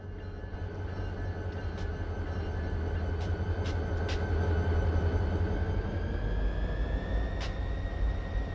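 A steady, heavy rumble of a freight train rolling past, with low droning and faint metallic squeals and clanks riding over it throughout.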